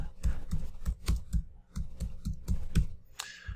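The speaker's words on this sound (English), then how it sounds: "I'm just going to type in double digits." A computer keyboard typed on in quick bursts of crisp, close clicks with short pauses, ending with a brighter final keystroke.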